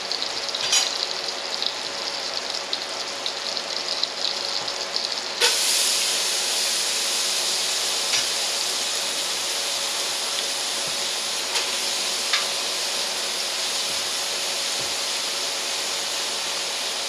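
Onions sizzling in butter in a soup pot for cabbage vegetable soup: a steady close hiss that swells louder a few seconds in and keeps frying evenly, with a few faint clinks.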